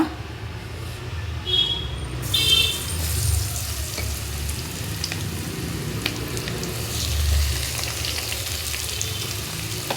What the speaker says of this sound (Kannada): ಇವಾಗ ಎಣ್ಣೆ ಬಿಸಿಯಾಗಿದೆ ಇವಾಗ ಬೆಂಡಿ ಫ್ರೈ ಮಾಡೋಣ